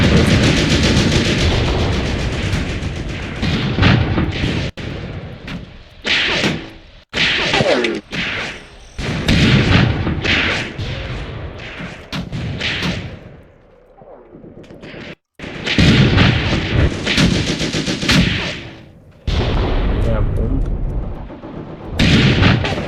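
Heavy WWII tank cannon and gun shots crack out during a 1943 Tunisia battle at Chouigui Pass, loud sharp blasts in clusters with roaring combat noise between, several abrupt drops to near silence, and a voice talking at times.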